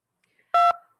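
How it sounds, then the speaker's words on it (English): A single short telephone keypad tone sounds as a caller presses a phone button, a clean, loud beep of about a fifth of a second against near silence. "Put your phone down, because you're pressing a bunch of numbers and stuff."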